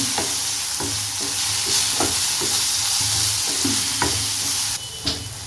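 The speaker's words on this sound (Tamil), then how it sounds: "நம்ம வறுத்து அரைச்சி வச்சுருக்கிற மசாலாவை இதில் சேர்த்துருவோம் இது நல்லா மிக்ஸ் பண்ணிடுவோம்" A spoon stirs roasted, ground Chettinad masala into sautéed onions in a hot pan, steady sizzling broken by repeated scraping strokes in an irregular rhythm, close and clear with no talking.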